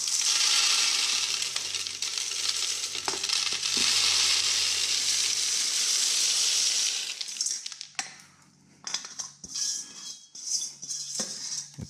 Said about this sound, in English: I'll put the media in the tumbler.